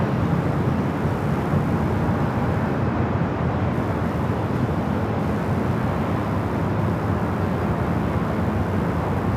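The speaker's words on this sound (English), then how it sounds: "Looks like we got two landings going on here on the north side." Jet airliners landing on the north side runways at Los Angeles LAX airport, a steady broadband engine roar and rumble held at constant loudness throughout, no talk.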